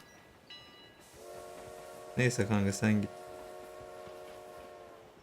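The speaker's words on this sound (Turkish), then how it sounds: "Tren gidiyor lan." A loud, sustained train horn blares with steady layered tones in PUBG Mobile, joined by brief bursts of nearby talking over a low background hum.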